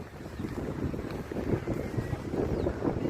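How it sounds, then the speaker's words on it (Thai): Cool evening wind blows across the open platform of Phetchaburi railway station, rumbling steadily into the microphone in gusty, low buffeting waves, with no voices. "ลมเย็นดีจริง"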